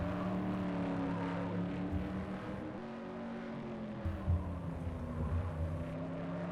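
Modified race cars in the Ground Pounder Modified class at Madera speedway roaring out of turn 4 to the finish, a continuous rumbling engine drone with shifting pitch as the cars pass, moderately distant.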